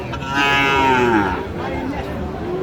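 Young Sahiwal bull calves moo loudly and close at a cattle market in Ranigonj, Dinajpur, one long drawn-out call followed by another, with faint market murmur behind.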